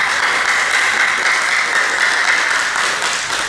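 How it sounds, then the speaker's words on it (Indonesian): Children and teachers clapping together at an online Sunday school session, a steady, loud wash of clapping held evenly for a few seconds with no talk over it. "Kita yang di sini juga tepuk tangan ya."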